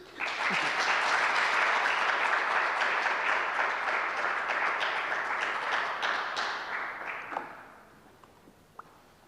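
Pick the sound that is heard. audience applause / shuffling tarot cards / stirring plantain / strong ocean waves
audience applause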